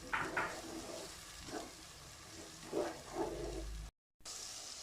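Ojri (goat tripe) cooks in a pan with a soft, steady sizzle broken by a few stirring scrapes, faint and close, with a brief dropout near the end.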